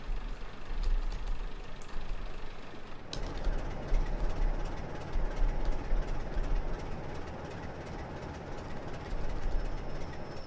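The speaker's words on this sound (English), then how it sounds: "Just braking the train now down to a stop." A Class 37 diesel locomotive in a train simulator game brakes down to a stop, a steady broad rumble and rush of wheels and engine with faint squeals, continuous and moderately loud throughout.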